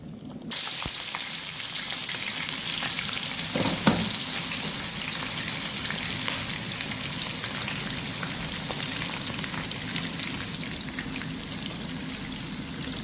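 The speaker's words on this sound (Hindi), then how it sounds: "एक बड़े साइज़ की जो प्याज है वो हमने उसके अंदर स्लाइस करके डाल दी है और उसका कलर चेंज होने तक उसे पकाएंगे" A large sliced onion fries in hot oil in a pan, giving off a continuous close sizzle with a brief louder crackle early on and no speech.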